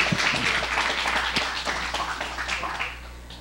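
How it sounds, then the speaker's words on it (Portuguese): A studio audience on a Brazilian TV variety show claps in a burst of applause that is loud at first and gradually thins out over a few seconds. "Salva de palmas,"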